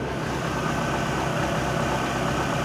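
Chevrolet Aveo engine idling steadily with the hood open, a close, even low rumble that continues unbroken and without voices.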